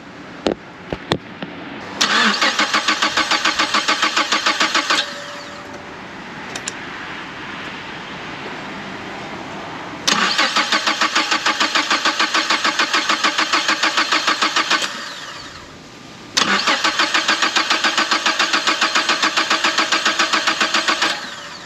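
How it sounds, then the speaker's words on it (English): A 2011 Mazda CX-7 engine, freshly replaced, cranks over in three long, loud bursts with pauses between, the starter grinding steadily each time without the engine clearly catching. "Then we're gonna be starting up this engine, hopefully just running."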